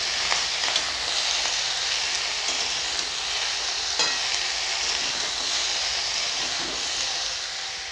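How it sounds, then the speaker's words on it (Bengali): Spices with turmeric, coriander powder and salt frying alongside a rui fish head in a pan, a continuous bright sizzle and hiss throughout, with occasional stirring scrapes and no talking. "এটাকে ভালো করে কষাতে হবে"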